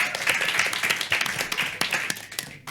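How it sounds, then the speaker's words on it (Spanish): An audience at a club event claps for Alba, brisk scattered hand claps forming a short, lively round of applause that tapers off at the end. "Sisplau, un aplaudiment a la Alba."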